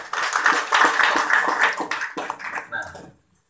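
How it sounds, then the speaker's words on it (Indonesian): Audience applause at a health product testimonial event: a burst of hand clapping, fairly close and dense, that gradually thins out and stops near the end. "tepuk tangan buat Purti."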